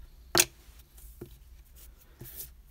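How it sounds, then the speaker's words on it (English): Scissors snip the yarn ends of a crocheted amigurumi acorn: one sharp close cut followed by two much softer clicks, in quiet surroundings. "Now we can cut these two ends."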